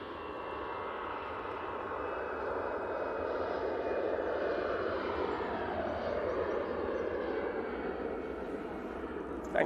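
An EasyJet Airbus A320ceo departs Manchester Airport, its engine roar swelling gently and holding as a broad, distant rumble with a faint whine running through it.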